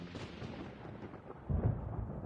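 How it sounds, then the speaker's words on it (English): Thunder in the video game Genshin Impact rumbles as a low, steady roll that swells louder and heavier toward the end, alone without voices. "Which of the starry skies do these thunderbolts fall from?"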